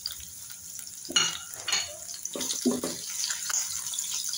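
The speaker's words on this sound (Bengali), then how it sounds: "হালকা ব্রাউন করে ভেজে নেব।" Chopped onions fry in oil in a pan, a soft continuous sizzle broken by a few closer bursts of stirring and scraping, fairly quiet and with no talk.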